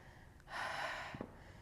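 One long, soft breath is pushed out through the nose and mouth during a Pilates mat stretch with a ball. It is a single quiet, airy exhale lasting under a second, ending in a small snort-like catch, with no talking.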